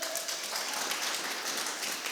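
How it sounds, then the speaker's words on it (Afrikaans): An audience breaks into steady applause at a live comedy show, a dense, even wash of hand clapping that holds throughout at moderate loudness without voices. "Gee my 'n hande klap."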